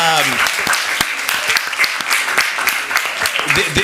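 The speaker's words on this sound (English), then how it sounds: "Give him a quick round of applause." Applause at a Burbank city council meeting for a departing city staff member, a room of people clapping with sharp, uneven claps, steady and fairly close, with voices talking underneath.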